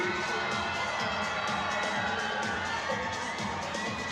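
A women's basketball arena crowd at a WNBL game between the Sydney Flames and Geelong Venom screams and cheers in a sustained, dense roar, with high children's shrieks mixed in throughout.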